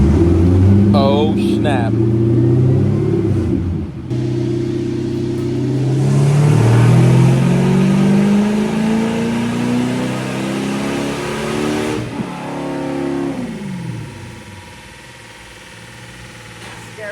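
A stock 6.0 LS V8 swapped into a BMW E30 runs loud and close, revving up in rising sweeps and dropping back, then settling toward idle while people talk over it.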